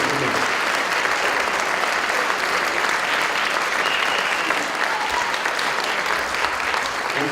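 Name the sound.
audience applause for candidates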